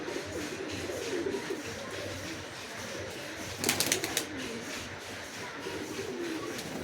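A Giribaz pigeon coos softly nearby amid faint shuffling, with a brief burst of fluttering or rustling partway through.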